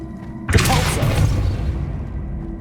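A Depulso spell cast in the Hogwarts Legacy video game, a sudden loud burst with a rushing whoosh and deep thump, followed by a lingering rumbling tail that fades over a couple of seconds.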